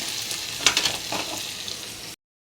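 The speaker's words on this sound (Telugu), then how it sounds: "ఈ మిశ్రమాన్నంతా పులుసు మరుగుతుంది కదండి మరుగుతుంది దాంట్లో వేసేయడండి" Horse gram broth (pulusu) boils in a pot with a steady, close bubbling hiss and a few sharper pops, then the sound stops abruptly into silence.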